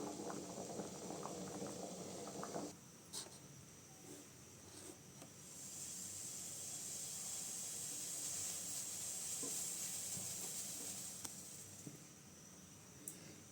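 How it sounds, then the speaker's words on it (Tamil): A pot of mochai and radish kuzhambu gravy boiling steadily, giving a soft continuous bubbling and hiss with faint pops, quiet and close, alone without voices. "இந்த குழம்பு நல்லா கொதிக்கணுங்க கொதிக்கட்டும் குழம்பு நல்லா கொதிச்சிருச்சுங்க"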